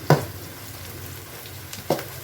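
Chopped onions sizzle steadily as they are sautéed in a pan for a mixed chicken biryani, with two clinks of stirring standing out over the constant frying hiss.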